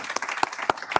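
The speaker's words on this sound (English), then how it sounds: "Let's give a round of applause to our panelists here." Audience applauding panelists at a business expo panel session, a steady patter of many hands clapping with a few louder claps standing out, close and fairly even throughout the short burst.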